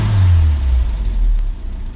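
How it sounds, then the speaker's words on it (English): A 1960s Hillman Minx Mk.VI engine runs steadily, close and loud, with a strong low rumble that settles from a brief rev into an even idle and no talking. "As I'm sure you'll agree, that engine sounds really sweet."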